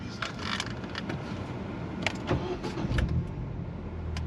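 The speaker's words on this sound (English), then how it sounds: "Ignition on." A car's ignition is switched on and its engine starts, a steady mid-range mechanical rumble with a few sharper clicks and a louder surge near the end, recorded close by with no talking.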